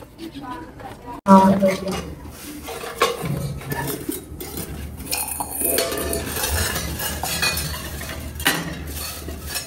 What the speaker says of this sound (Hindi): मैं ऐसा करती हूँ चनों का पानी ना गिरा देती हूँ।